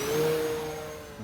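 Electric motor of an RC fixed-wing plane spinning up for takeoff, a rising whine that holds briefly and then eases off slightly, heard from nearby over faint outdoor background.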